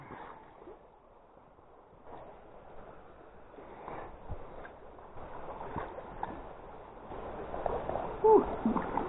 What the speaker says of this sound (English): You hear the water go underneath the ice and it's a noise